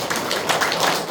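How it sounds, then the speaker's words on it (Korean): A church congregation claps in welcome during a Korean worship service, a dense, steady patter of many hands filling the room for about a second. "자, 환영하고 축복합니다. 박수."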